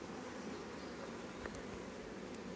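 Honey bees at a hive drone in a steady, continuous buzz close by, with no talk over it.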